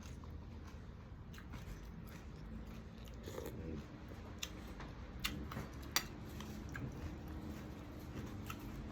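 Fresh gotu kola leaves being chewed close to the mic, soft crunching bites and wet mastication over a low steady background hum.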